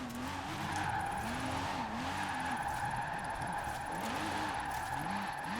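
A LEGO Porsche slides sideways in the racing game Forza Horizon 4, its tires squealing in repeated wavering skids over a steady engine drone, loud and continuous throughout.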